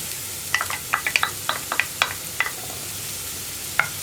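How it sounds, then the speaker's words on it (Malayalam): Chopped onion dropped into hot coconut oil, crackling and spitting in a scatter of sharp, irregular pops with a soft sizzle beneath, fairly close. "വെളിച്ചെണ്ണ ഒന്ന് ചൂടായി തുടങ്ങുമ്പോൾ നമ്മൾ കട്ട് ചെയ്ത് വെച്ചിരിക്കുന്ന സവോള ചേർത്ത് കൊടുക്കുക."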